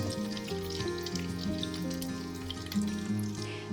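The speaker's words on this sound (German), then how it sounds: "Der Spargel dauert in der Pfanne ungefähr so 6 bis 8 Minuten" Soft sizzling and crackling of green asparagus frying in a pan, continuous and fairly quiet, with steady musical tones playing in the background.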